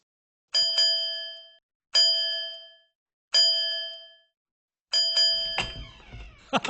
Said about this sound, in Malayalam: എപ്പോ വന്നാലും ഫൈസൽ ആ മണി അടിക്കൂ